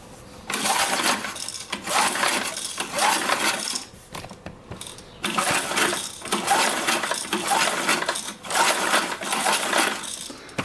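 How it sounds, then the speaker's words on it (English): Metal hammer blows pound the top of a valve on a small gas-powered go-kart engine, coming in quick bursts of sharp rapid clanking taps with short pauses between, loud and close. "I'm going to just pound the top of that valve just to make sure it's straight"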